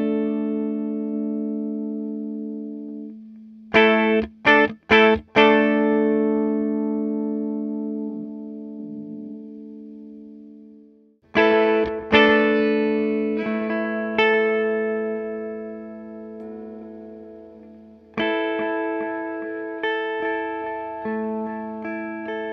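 Gibson Les Paul electric guitar played through a Boss DM-2W analog delay pedal into a 1968 Fender Twin Reverb amplifier, ringing clean chords and plucked notes that trail off into repeating echoes, loud and close with no voices.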